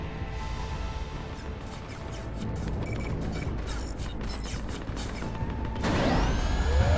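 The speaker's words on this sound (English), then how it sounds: "Lower the blast doors." Heavy blast doors lowering in a video game bunker, a continuous grinding mechanical rumble with clanks, followed by a rising whirring tone as the doors move.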